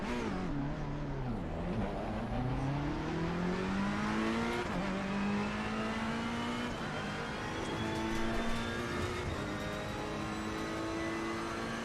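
Race car engine on a lap in Assetto Corsa Competizione, a loud continuous high-revving drone that climbs and drops through gear changes, steady and close throughout with no talk.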